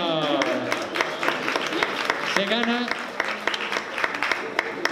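An audience applauds at a music science talk, a steady wash of clapping with a voice speaking over it and a few louder individual claps standing out.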